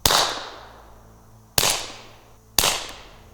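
Three sharp reports from a suppressed .22 rimfire rifle, spaced roughly a second apart, each a loud crack that decays quickly with a short echo; no voices.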